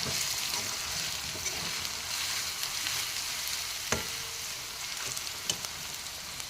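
Garlic stir-fried in a pan for a cauliflower bhaji, a steady close hiss of frying with occasional sharp clicks of a utensil against the pan and no talking.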